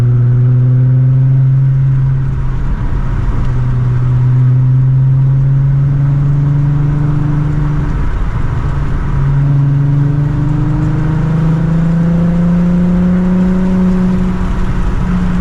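Engine of a cheap VW GTI winter beater with its regulator unhooked, revving loudly through rising and falling gears while driving, with a steady droning tone climbing in pitch, a brief dip mid-way, then pulling again; no voices.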